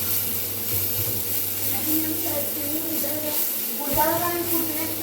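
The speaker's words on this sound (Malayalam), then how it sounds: "ഒരു സവാളയും ഒരു തക്കാളിയാണ് കേട്ടോ ഞാൻ എടുത്തിട്ടുള്ളത് നന്നായിട്ടൊന്ന് ഈ ഒരു നെയ്യിലിട്ടിട്ടൊന്ന് വാട്ടിയെടുക്കാം" Onion and tomato sauté in ghee for a sweet corn masala, making a steady close sizzle with occasional stirring, while a voice talks over the cooking.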